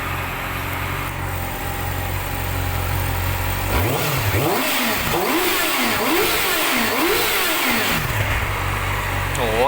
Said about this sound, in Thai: เดี๋ยวผมจะพาไปฟังเสียงท่อเดิม